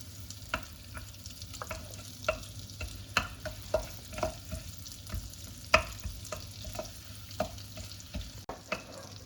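Food sizzles in butter in a pan while being stirred, with a soft frying hiss under repeated scraping and clinking strokes at a fairly regular pace, close by and moderately quiet, with no voices.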